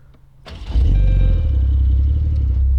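A Porsche 911 Targa 4S Heritage Edition engine fires up and revs hard as the car pulls away, a loud, deep, sustained growl up close with no talking.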